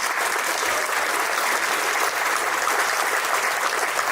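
Steady, dense applause from a Hall of Fame induction audience fills the space, loud and continuous throughout with no talk over it.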